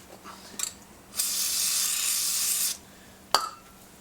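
Lubricant hisses from a spray can onto a wheel stud washer in one steady burst of about a second and a half, close by, framed by light clicks and a sharp tap.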